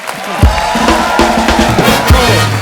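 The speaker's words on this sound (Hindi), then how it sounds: "एक बार हेजल और युवराज के लिए जोरदार तालियां।" A studio audience claps and cheers for Hazel and Yuvraj on a comedy talk show, a loud, dense burst of crowd noise with shouts rising over continuous applause.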